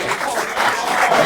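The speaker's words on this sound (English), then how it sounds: "there's applause in your favor" Audience applause at a televised quiz competition grand finale, a steady, dense wash of clapping filling the whole short stretch at a fairly loud, even level.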